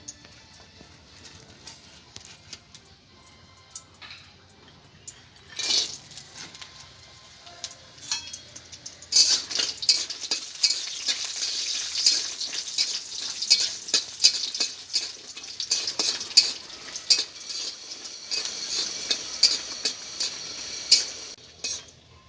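Pumpkin bori, lentil dumplings, fry in white oil in a wok over a stove, starting with faint stirring and scraping, then breaking into loud, continuous crackling sizzle with spatula clinks for the rest of the stretch.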